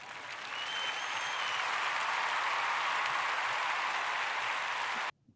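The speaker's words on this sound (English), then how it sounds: "Let's clap once again" Sustained audience applause, steady and full for about five seconds after swelling in, then cutting off abruptly.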